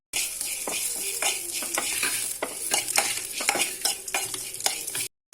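Poppy seeds and spices dry roasting in a pan for chicken liver sukka masala, crackling and rustling with repeated stirring scrapes, steady and close.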